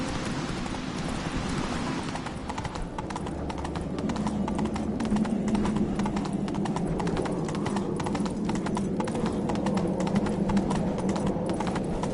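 Roach the horse gallops in The Witcher 3 with steady rapid clip-clop hoofbeats over a continuous game soundscape, loud and sustained throughout.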